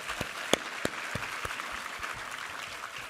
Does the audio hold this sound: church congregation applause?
yes